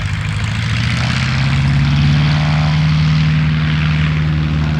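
A propeller aircraft comes in to land at Kemble (Cotswold Airport), its engine a loud, steady, close drone with a low humming tone that holds throughout, with no voices.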